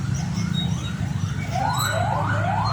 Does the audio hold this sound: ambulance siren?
yes